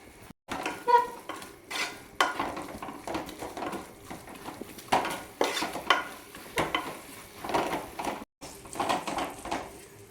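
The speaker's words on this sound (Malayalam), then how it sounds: "വീണ്ടും ഇളക്കി കൊടുക്കാം" Fried chicken biryani with yogurt, chopped mint and coriander being stirred in a pot, with repeated close scraping and clinking of a spoon against metal in bursts over a soft sizzle, no talking.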